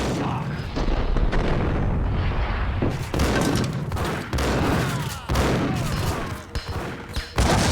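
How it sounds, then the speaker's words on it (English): A grenade blast in the video game Max Payne booms amid loud, continuous gunfire and rumbling explosions, dense and close throughout with repeated heavy thuds. "Was that a grenade?"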